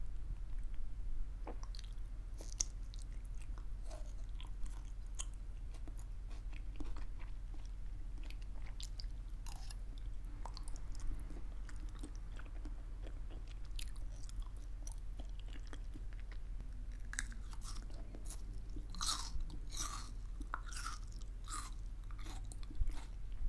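Someone chews salmon wrapped with onion at close range, with soft wet bites and crunchy onion snaps repeating throughout and growing crisper toward the end, with no talking.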